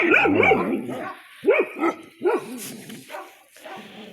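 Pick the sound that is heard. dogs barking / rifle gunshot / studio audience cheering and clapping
dogs barking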